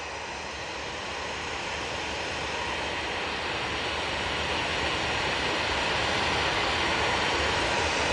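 An EasyJet airliner departs Manchester Airport for Funchal, its steady broadband jet roar filling the air and slowly building in loudness, with no voices.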